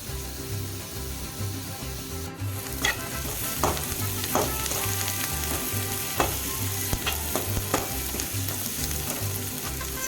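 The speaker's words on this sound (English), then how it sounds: "Now let's add 1 large onion which is finely chopped and stir fry it till the onions become nice and translucent." Finely chopped onion is stir-fried in a hot pan, giving a loud, steady sizzle with repeated spatula scrapes and taps at an irregular rhythm, close up, without voices.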